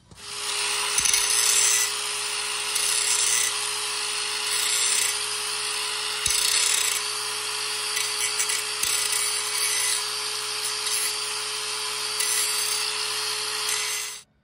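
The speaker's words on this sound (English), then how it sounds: "I'm gonna be grinding this down from here forward." A DeWalt DCG412B angle grinder grinds a metal edge with a continuous high, gritty whine. The sound is steady and fairly close, with slight surges as the disc bites, and no one speaks.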